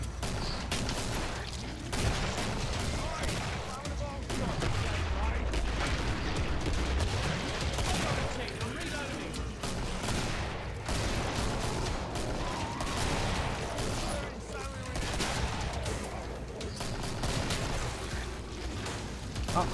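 Dense, continuous gunfire in the video game Killing Floor, with overlapping shots and blasts filling the whole stretch at steady loudness and no clear talk.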